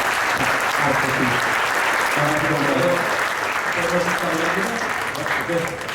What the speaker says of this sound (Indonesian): kita berikan aplaus yang luar biasa untuk Artedi